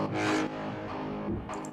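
A distorted guitar impact hits with a thick, buzzing layer of synth sound stacked over it, swelling and fading in short surges for under two seconds.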